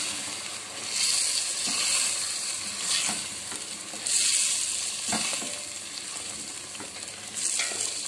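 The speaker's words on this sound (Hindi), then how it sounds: "मज़ीद थोड़ी सी यखनी ऐड करके फिर हम दोबारा से भूनेंगे।" Goat trotter paya masala fries in a pot with added stock, a moderate sizzling hiss with periodic swells and scraping as it is stirred.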